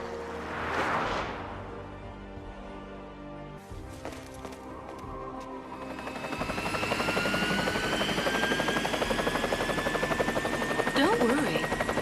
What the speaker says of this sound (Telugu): లియాన్కు ఒక బైక్ ఇచ్చి తను హెలికాప్టర్లో వెళ్ళిపోతుంది